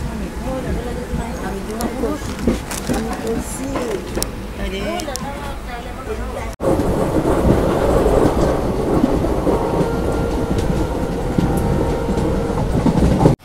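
The 15663 Express from Agartala to Silchar rumbles along the rails, with voices over its quieter running at first, then a sudden surge into loud, continuous wheel-and-carriage roar.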